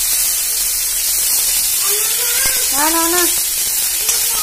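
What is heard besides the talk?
oil sizzling in pan while frying green chillies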